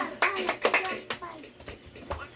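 Children clap their hands along with a sung children's song, the sharp claps landing in an uneven rhythm amid young voices singing.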